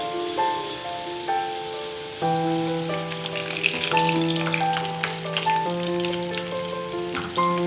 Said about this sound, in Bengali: আলুগুলো আমার প্রায় ভাজা হয়ে গেছে এই যে দেখতে পাচ্ছ লাল লাল করে ভেজে নিয়েছি